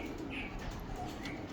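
A desi racing pigeon coos softly, a low murmuring call that sits faintly against steady background noise throughout the short stretch.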